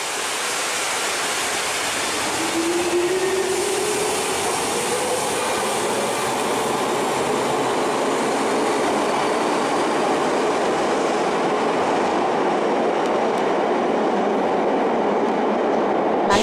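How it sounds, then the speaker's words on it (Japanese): A Nagano Electric Railway 3500 series train pulls out of underground Gondō Station, a loud, steady roar of motors and wheels echoing in the tunnel, with a rising whine as it picks up speed. "権堂駅で長電3500系を見送ります"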